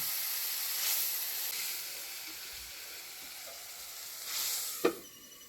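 Cumin, mustard seeds, dal and chilli crackle in hot oil for a village-style sundakkai sambar tempering, a steady close sizzle with a brief louder burst and a sharp pop near the end.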